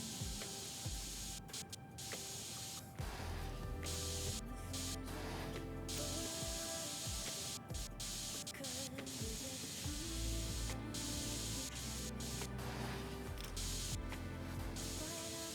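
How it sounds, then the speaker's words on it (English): In PC Building Simulator 2, spray paint is applied to a glass panel. A steady, continuous aerosol hiss runs throughout with short bursts, and background music plays beneath it. "Yep, just spray paint the glass."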